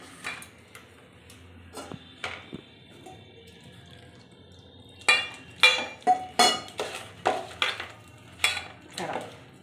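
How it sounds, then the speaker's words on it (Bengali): Rice flour batter for cabbage pakoras is worked by hand as water is added bit by bit. Scattered quiet clinks give way to a run of wet, squelchy mixing strokes in a steady rhythm, close up, with no talking. "দাঁড়াও আমি একটু একটু করে জল দিয়ে মাখতে থাকি।"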